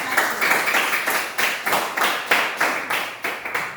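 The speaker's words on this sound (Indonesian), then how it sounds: "mari kita semua tepuk tangan buat kelompok 1" A small group claps in a brisk, steady rhythm for group 1 at a gathering, roughly eight distinct pulses of clapping in close succession, near and fairly loud.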